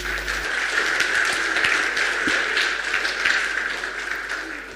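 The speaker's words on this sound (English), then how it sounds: "A round of applause." An outdoor crowd at a science buskers festival applauds, the clapping steady and moderately loud across the whole stretch, mixed with a broad wash of crowd noise.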